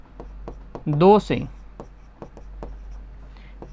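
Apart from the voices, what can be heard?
writing an equation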